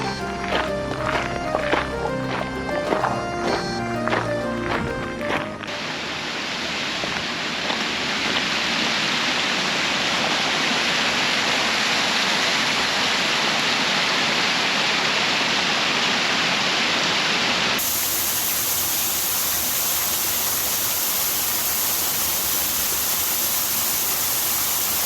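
Rushing water roars at the Fairy Pools waterfall on the Isle of Skye in the Scottish Highlands, a loud unbroken wash of white noise, with a brief burst of other sound at the very start.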